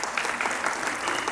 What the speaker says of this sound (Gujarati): એમને જોરદાર તાળીઓથી વધાવો એકવાર